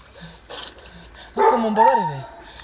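An anti-poaching canine unit dog in Akagera National Park gives a few short barks followed by a longer whining yelp, close and fairly loud against quiet outdoor background.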